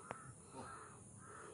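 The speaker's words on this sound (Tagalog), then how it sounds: "Ay, uwak mga tol." Several crows caw near a sacred well, a sharp single call opening followed by softer, more distant caws, faint and with no speech.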